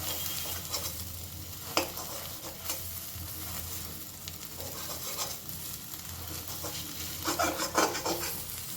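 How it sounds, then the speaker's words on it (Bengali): An omelette being cut into small pieces in a frying pan for egg bati chorchori: a steady sizzle under repeated scraping and tapping of a utensil against the pan, with a busier flurry of scrapes near the end. "এবারে এই অমলেটটাকে না একটু টুকরো করে কেটে নেব। এরকম ছোট টুকরো করে কেটে নেব।"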